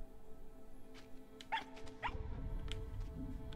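A dog in the video game RiME gives a few short, soft barks or yips over a steady low ambient game background, with no talking.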